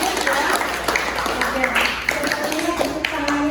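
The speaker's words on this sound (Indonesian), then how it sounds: "mari kita beri tepuk tangan" An audience of students in a university lecture claps, a moderate, uneven patter of applause with talking heard over it.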